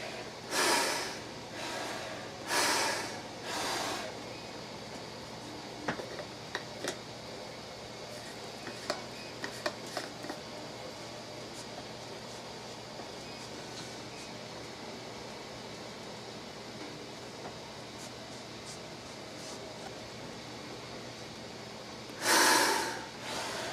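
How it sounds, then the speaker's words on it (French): Deep breaths drawn through a wartime-style gas mask, a few loud hissing inhales and exhales near the start, then faint rustling and small clicks, and one more heavy breath close to the end. "Je vais prendre une grande respiration."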